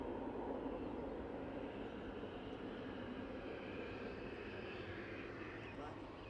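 An airliner taxis at Manchester Airport, giving a steady, distant jet engine rumble and whine throughout, with no clear changes.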